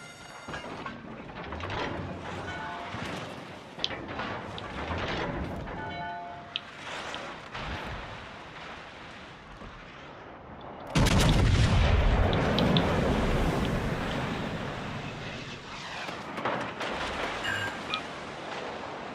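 Naval guns firing high-explosive shells in the warship video game World of Warships Legends, a series of deep booming blasts with rumbling tails, including one loud heavy salvo midway, amid ongoing game sounds.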